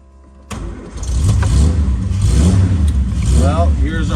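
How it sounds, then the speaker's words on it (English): A 1957 Austin Healey 100-6 BN2 starts from cold in a basement with a sudden burst, then a loud, throaty six-cylinder idle rises and falls as it is revved, heard close by with a voice speaking over it. "here's our cold start in the basement"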